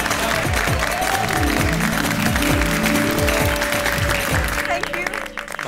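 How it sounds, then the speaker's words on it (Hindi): Studio audience applause from the Hindi sitcom Taarak Mehta Ka Ooltah Chashmah, a steady dense clapping that fills the scene for several seconds under background music before fading. "बबीता जी, सबको प्रेरणा देने वाली आपकी सोच के लिए तालियां तो बनती है।"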